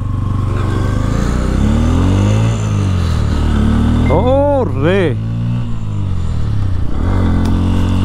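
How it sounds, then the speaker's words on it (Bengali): A Bajaj Pulsar N160 motorcycle being ridden, its engine droning loudly and steadily with a quick rise and fall of revs in the middle, while someone talks over it. "পালসার N160 আসলে রাইড করতে গেলে কয়েকটা জিনিস খুব ভালো লাগে। পুরো লাউড সাউন্ড।"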